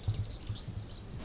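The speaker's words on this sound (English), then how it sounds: "Hear the birds chirping?" Birds chirp faintly in springtime greenery outside a van parked in Portugal, a steady scatter of small tweets over a low background rumble.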